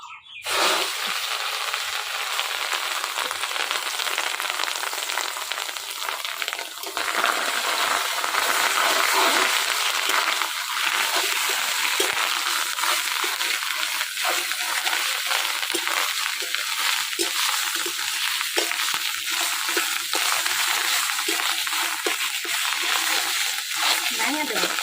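Fish roe sizzles and spatters in hot oil in a village kitchen, a continuous bright crackling hiss that runs throughout, with occasional voices talking over it.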